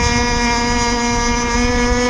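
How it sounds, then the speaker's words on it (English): ZippKits Vbox RC boat running on water with its small gas engine slightly rich and not at full speed, a steady buzzing whine with strong harmonics, loud and constant, some wind noise. "my engine could be a touch leaner because I know this hull, it's not running at full speed"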